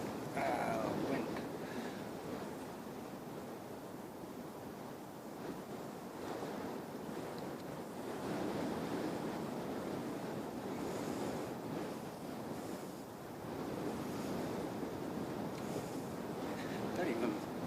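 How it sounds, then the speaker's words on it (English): Strong, gusty wind buffets the microphone at Christchurch airport in New Zealand, a steady roar with surging gusts that runs through the whole stretch, with speech faintly in the background. "Wind."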